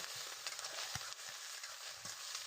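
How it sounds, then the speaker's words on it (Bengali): Steady, close sizzling of taro stolons being fried in a pan with coarse chili paste, for a dish with fish roe. The hiss is continuous and even with occasional soft stirring knocks, and no one speaks. "এটাকে এবার আমি দু তিন মিনিটের মতো ভালো করে ভেজে নেব"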